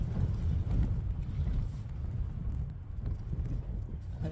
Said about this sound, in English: You can hear the wind blowing.